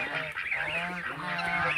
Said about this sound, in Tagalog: So ayan na yung ating mga baby gansa.